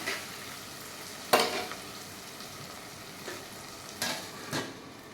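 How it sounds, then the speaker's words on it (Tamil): Onions and tomatoes soften in a pan for a curry leaf kuzhambu, giving a quiet, steady sizzle broken by a few sharp scrapes and clinks of stirring, with no voices. "வெங்காயம் தக்காளி நல்லா வதங்கிடுச்சு"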